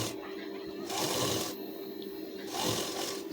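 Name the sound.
sewing machine stitching a blouse sleeve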